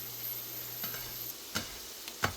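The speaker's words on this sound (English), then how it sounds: "if we get enough of this browning of this garlic in here" Chopped garlic sizzles steadily in a hot pan with oil for a creamy shrimp pasta, with a few sharp scrapes and clacks of stirring breaking through the constant frying hiss.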